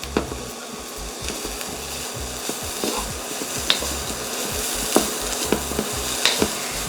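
A spatula stirs glutinous fried rice with Chinese roast pork in a pan, giving repeated sharp scrapes and taps over a low sizzle. A steady low hum runs beneath.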